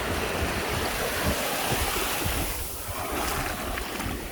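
Ocean surf on Tybee Island beach in Georgia, a steady wash of rolling waves with gusty wind buffeting the microphone, continuous and fairly close.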